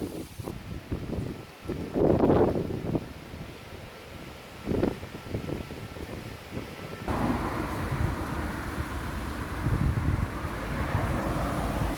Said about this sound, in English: it is so windy now.